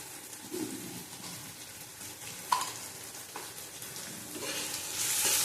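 Pointed gourd sautéing in hot oil with salt in a pan, a steady soft sizzle with occasional stirring scrapes, growing louder and hissier toward the end, close and alone without talk.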